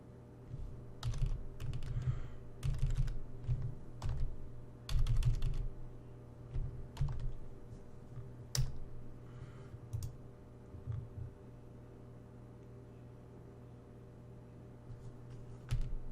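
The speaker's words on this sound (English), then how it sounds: "Don't hit that equals button, just type in enter." Keys on a calculator keypad are pressed while an algebra equation is typed in, with clusters of quick plastic clicks for several seconds that thin out to occasional single taps.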